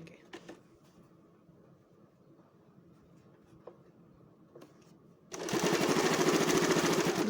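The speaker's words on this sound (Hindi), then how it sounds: "इस तरह मैच करेंगे और सादी सिलाई लगाएंगे" A sewing machine stitches a plain seam on blouse fabric during home tailoring; after a long quiet stretch with faint handling sounds, a loud, steady motor whir starts suddenly and runs to the end.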